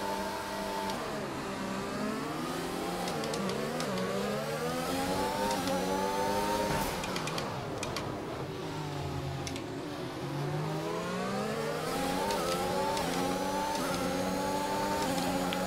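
An F1 race car engine in F1 2021 screaming at high revs, pitch rising and falling with repeated gear changes and braking dips, loud and continuous with no talking.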